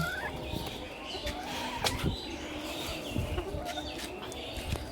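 Backyard chickens clucking and calling close by, a busy flock with repeated short clucks and squawks over faint background rustling, no speech.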